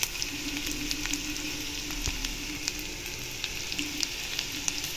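Onions sizzle steadily in a hot pan while sautéing until translucent for chutney, a constant crackling hiss with occasional sharp pops and no talking.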